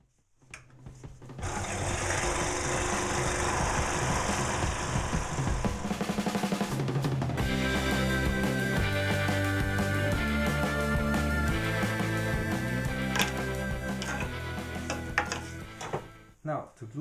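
A saw cuts the soundhole out of a thin wooden panel for a mini cajon, fast steady buzzing strokes with a rattling mechanical chatter, close and loud for about fifteen seconds before stopping.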